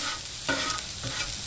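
Onions cooking in oil on a 22-inch Blackstone griddle, a steady close sizzle broken by a few scraping stirs of a spatula, with no talking.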